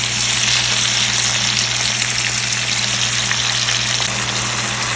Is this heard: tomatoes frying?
yes